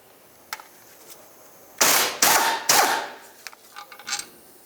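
A 16 mm starter bracket bolt is worked loose on a 2009-2020 Dodge Journey, giving three loud, close, harsh bursts of tool noise in quick succession, then a few fainter clicks and knocks.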